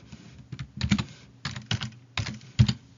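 Several quick bursts of keystrokes on a computer keyboard, close and fairly loud, typed in short irregular clusters with brief pauses between them.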